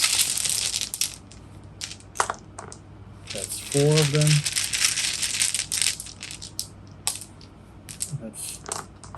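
Eight dice clatter and rattle onto a table during a Roll Player board game, with a short burst of rolling amid close rustling of pieces, as a person talks quietly alongside.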